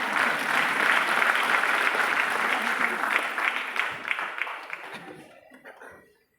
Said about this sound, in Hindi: सर के लिए जोरदार ताली।